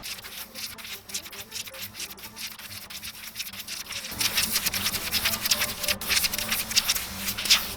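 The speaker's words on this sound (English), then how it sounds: "I just scraped the bait with the needle." A needle scrapes and rubs across a handmade fish swimbait with jointed fins, a close, dry, steady scratching that turns louder and brighter partway through, with faint clicks scattered over it.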